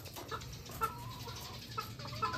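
Backyard chickens cluck softly and intermittently against a steady ambient hum, with a few sharper clucks rising above the continuous low background.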